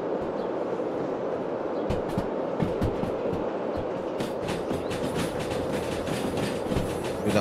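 A train rolls steadily along rails in the Derail Valley railway game, with continuous wheel rumble and rhythmic clickety-clack over rail joints, growing busier with sharp metallic ticks in the later seconds.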